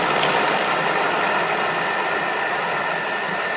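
A kitchen food processor chops onion at speed 5, its motor giving a steady, loud, unbroken whir with no pauses and no talking.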